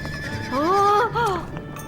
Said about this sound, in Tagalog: Oh, napakagandang mga kabayo.